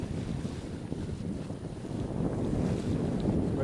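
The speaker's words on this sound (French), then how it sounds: "Il y a une brise qui arrive bien sympathique." A steady breeze blows over a sailboat under sail at about 13 knots, approaching the Bonifacio cliffs between Corsica and Sardinia, giving a continuous rushing wind roar against the microphone with water and hull sounds beneath, no voices.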